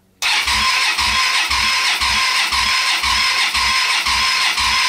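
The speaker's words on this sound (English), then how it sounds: "It's not turning over that fast." Small mini motorcycle engine cranking slowly on a weak-seeming battery, a loud rhythmic starter chug of about a dozen even strokes that starts abruptly and never catches, heard alone without talk.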